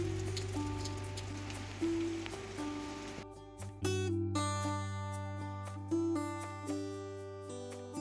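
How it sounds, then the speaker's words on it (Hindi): Continuous rain patters on surfaces outside a home for a few seconds, a soft steady hiss that is soon overtaken by louder tonal music. "आज सुबह से लगातार बारिश हो रही है"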